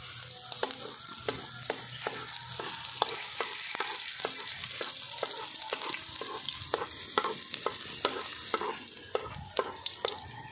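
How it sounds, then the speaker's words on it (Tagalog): Onion sautés in a pan with a continuous bright sizzle while a utensil stirs it in quick, regular clacks and scrapes against the pan, with no voices. "ilagay po natin ang ating sibuyas"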